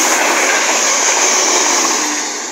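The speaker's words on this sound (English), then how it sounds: "Next one to pass by is going to be East Midlands Railway service from St Pancras International to Corby" An East Midlands Railway train from St Pancras International to Corby rushes through Leagrave station on the Midland Main Line, a loud, steady broadband roar that holds for the whole stretch and eases slightly at the end.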